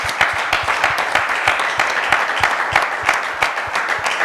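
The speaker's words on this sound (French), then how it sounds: "Je vous demande d'applaudir encore bien fort." A studio audience applauds loudly and steadily during a French television show, dense clapping sustained throughout with sharp individual claps standing out.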